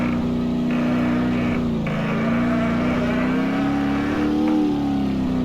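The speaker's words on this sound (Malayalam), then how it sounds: "എഞ്ചിനൊക്കെ താനെ റേസ് ആവുന്നതാ" A timber lorry's engine races on its own on a forest track, holding a loud, steady, close drone. The pitch dips and climbs slightly as it runs.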